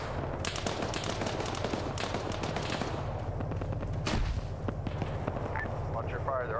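Gunfire rattles in a military video game, with rapid automatic bursts and scattered single shots, some near and some distant, sounding almost continuously. A sharper nearby crack stands out, and faint voices sit underneath.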